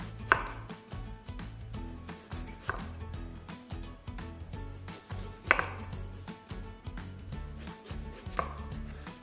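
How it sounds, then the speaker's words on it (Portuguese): A knife slices eggplant into rounds on a cutting board, a steady series of close, crisp chopping strokes with a thud as the blade meets the board on each cut. "Vamos cortar todinha a nossa berinjela."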